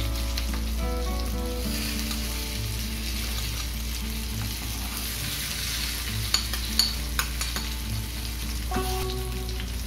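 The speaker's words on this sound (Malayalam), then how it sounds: "ഇനി ഈ ലെമൺ ജസ്റ്റ് മീനിൻ്റെ മുകളിലേക്ക് ചേർക്കാം." Salmon fillets frying in a pan with a steady, close sizzle throughout, with a few light clinks and utensil taps near the end as lemon juice is added.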